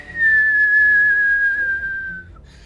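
A person whistles one long, steady high note that slides slightly downward, held for about two seconds and close up, imitating a whistling sound.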